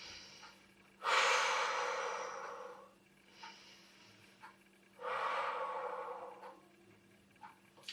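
Slow, deep breaths during a Pilates stretch: two long, loud breathy exhales with softer inhales and small sniffs between them, close to the mic, with no talk.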